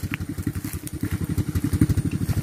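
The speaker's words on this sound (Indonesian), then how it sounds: "memuat sawit pakai motor" A motorcycle carries oil palm fruit on a mountain slope plantation, its engine thumping in a rapid, steady low pulse, close and loud, with faint clatter now and then.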